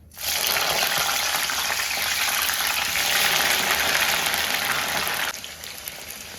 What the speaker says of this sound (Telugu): ఆయిల్ హీట్ ఎక్కాక మనం ముందుగా కట్ చేసి పెట్టుకున్నాం కదా, సో ఆ వంకాయని ఇందులో వేసేసుకోవాలి.